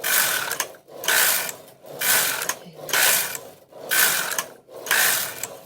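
A Silver Reed punchcard knitting machine knits rows as the carriage makes about six rhythmic back-and-forth passes, each a bright mechanical whirring rasp separated by brief gaps, close and clear with no talk.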